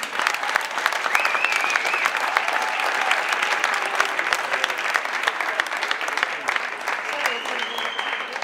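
A crowd at an Icelandic team gymnastics championship gives a gymnastics team a long round of applause, dense crackling claps sustained evenly at moderate volume with faint voices and cheers mixed in.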